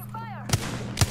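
Two sharp, loud gunshots about half a second apart in Apex Legends, each a short broadband burst over a steady game hum and a sweeping electronic tone at the start.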